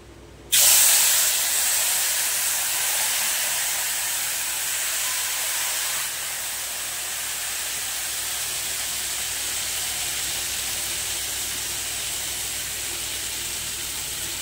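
Ground cumin, ginger, chilli and turmeric paste hits a hot pan with a sudden loud sizzle, then keeps frying in a steady, slightly fading hiss.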